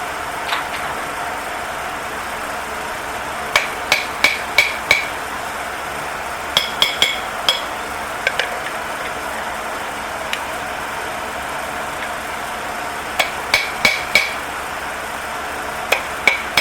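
Sharp metallic taps from a claw hammer come in short clusters of three or four over a steady background hum, moderately close and loud, during a rear axle swap.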